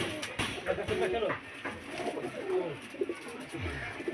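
Several pigeons give repeated low, burbling coos nearby while a faint voice murmurs now and then in the background; male and female pigeons kept by a fancier in Beldanga.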